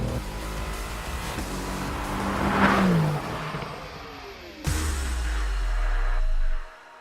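Mercedes-AMG GT R sports car engine revving loudly, a sustained snarling roar that climbs and eases, cuts briefly, then surges again before dropping away at the end.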